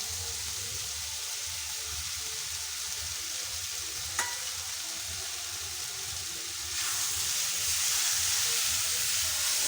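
Sugar being stirred into olive chutney in a pan gives a steady sizzling hiss with soft scraping, and one sharp clink midway. The hiss grows a little brighter and louder toward the end. No one speaks.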